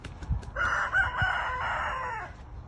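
A backyard chicken near calamansi trees gives a single drawn-out, strained call lasting about two seconds, fairly faint, with low thumps of handling beforehand.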